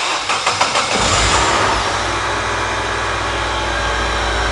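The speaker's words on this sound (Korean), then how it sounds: "시동을 한번 걸어보죠" A car engine cranks with a few rapid starter pulses, then catches and settles into a loud, steady idle close by, with no talk.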